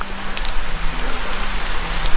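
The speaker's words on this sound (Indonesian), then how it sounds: "ditemani suasana hujan yang lumayan cukup" Heavy rain pours steadily outdoors during an exploration trip, a dense, continuous close hiss of drops on surfaces with no pauses and no talking.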